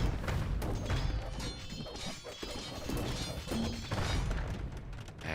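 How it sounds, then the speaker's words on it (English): Buildings crumbling and crashing down during a medieval real-time strategy battle in the Rage Forest map, with a dense, continuous wash of thuds, smashes and debris over steady battle noise. "Some houses go down."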